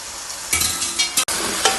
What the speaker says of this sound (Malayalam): മസാല ഇതിൽ ഇളക്കി കൊടുത്ത് യോജിപ്പിക്കുക